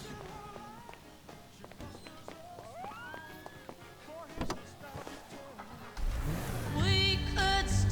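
A car engine runs and accelerates in Grand Theft Auto V, growing louder toward the end, with game effects and brief voices in the background.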